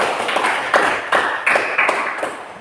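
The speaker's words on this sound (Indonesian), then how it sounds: "Tepuk tangan." A class claps hands in a short rhythmic pattern, several sharp bursts spaced evenly over a couple of seconds, fairly loud in a small room.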